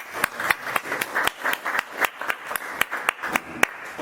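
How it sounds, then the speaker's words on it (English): Small audience clapping for organizers at a Greenpill Network gathering in Turkey, a handful of close, distinct hand claps in a loose, uneven rhythm over a soft murmur of the room. "I just want to start by maybe doing a round of applause for the Greenpill Turkey organizers"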